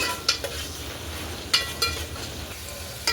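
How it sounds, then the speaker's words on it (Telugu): Onions, garlic and curry leaves sizzling in a tempering pan, a steady fry with a few sharp clinks and scrapes from a spoon against the metal. "తాలింపు అయితే వేగిపోతుంది"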